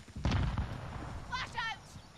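A grenade going off in the Modern Warfare video game: one sharp, loud blast near the start that fades into a rumble, then a short burst of voice.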